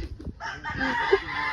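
A rooster or chicken gives a short, fairly faint call outdoors in a mountain setting, mixed with low background noise.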